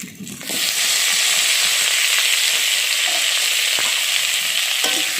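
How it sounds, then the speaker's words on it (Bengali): Bay leaf, chopped tomato and onion fry in hot oil, a loud steady sizzle that swells after a brief quiet start and holds throughout, broken by a few light stirring scrapes. "দিয়ে একবার ভালো করে নেড়ে নিচ্ছি নেড়ে এটা একটু ভাজা ভাজা করে নিচ্ছি"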